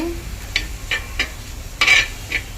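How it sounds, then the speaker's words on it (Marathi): Finely chopped onion is stirred in a hot pan, a few spaced scraping strokes over a soft, low sizzle. "छान बारीक कांदा करून दिलाय दादानी ते छान मिक्स करून घेते मी"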